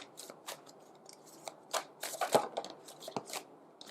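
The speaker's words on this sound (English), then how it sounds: "I need to pull some different cards here." A tarot deck is shuffled and cards are drawn, producing soft, close papery riffles and flicks in irregular bursts, with no talking.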